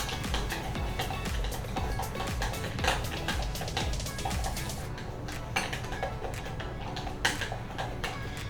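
Protein powder frosting mixed in a bowl for mini protein muffins: rapid, irregular scraping and tapping of a utensil against the bowl, continuous and close, with quick clicking strokes throughout and no talk.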